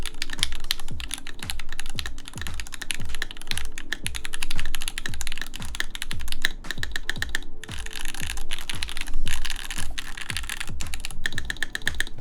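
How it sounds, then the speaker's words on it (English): Steady, rapid typing on a custom-built mechanical keyboard fitted with PBT keycaps, a dense run of close, crisp keystrokes continuing throughout with no talking. "I definitely think I like the sound of the PBT in this right now, as Ninewalker said."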